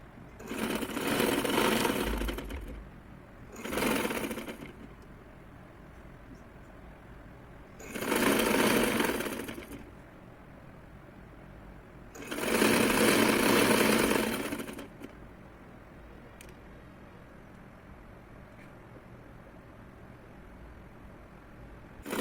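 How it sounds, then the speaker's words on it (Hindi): Sewing machine stitching a designer-style suit, running in four loud close bursts of about one to three seconds each, separated by pauses with low background noise. "ये पूरा स्टिच कर दिया है मैंने"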